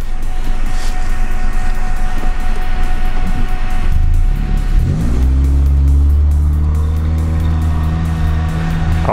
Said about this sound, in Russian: А вот он разгон берет